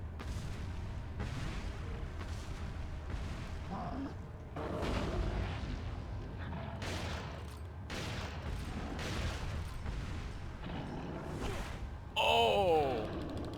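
Repeated booming shotgun blasts from Resident Evil 4 fire at steady intervals during combat, each a broad punchy burst over background game ambience, with a short electronic sound near the end.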